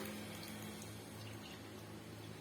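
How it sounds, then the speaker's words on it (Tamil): Beetroot juice pours through a strainer into a pan, a faint, continuous liquid trickle over a low background hum, steady and unbroken for a couple of seconds with no voices. "அதே வடிகட்டியை பயன்படுத்தி அந்த பீட்ரூட் ஜூஸை வந்து இதோட சேர்த்து விட்டுக்கலாம்"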